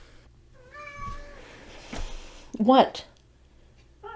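Close cat meowing indoors, a drawn-out tonal meow followed by a louder, sharper cry, with a person speaking briefly between them.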